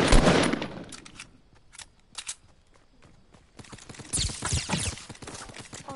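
Bursts of gunfire in the video game Fortnite, a loud rapid volley at the start, scattered sharp shots through the middle and a denser crackling run of fire near the end, with no talking.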